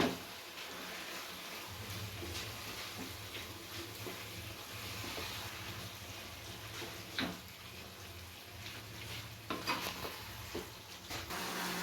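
Chicken gizzard stirred and fried in a pan, a steady close sizzle with scraping stir strokes and occasional louder clinks of the spoon against the pan.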